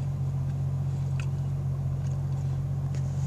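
A 1999 Jeep XJ engine idles roughly with a misfire, giving a steady low rumble close by with faint irregular ticks and small stumbles in its rhythm.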